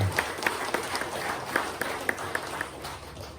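Applause from an audience at a formal ceremony for Datuk Robert Tawid, with a few sharp claps standing out over a steady low wash of crowd noise, fairly distant and modest in volume.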